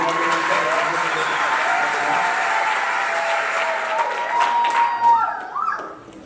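Wedding guests give a loud, sustained round of applause that fills the room, with crowd voices mixed through it. A voice rises over the clapping near the end as it starts to ease.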